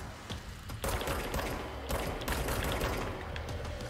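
Explosions and gunfire burst out in the supernatural shooter Control, a broadband blast hitting near one second and another near two seconds over a continuous dense roar of combat noise, loud and close without talk.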